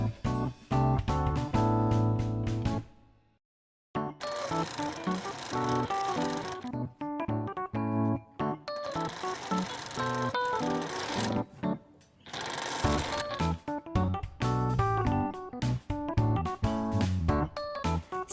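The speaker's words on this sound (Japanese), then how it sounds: "布の境目を縫います。" A sewing machine stitching seams of crazy-quilt patchwork fabric, rapid buzzing runs of needle strokes in bursts with short pauses, close and fairly loud.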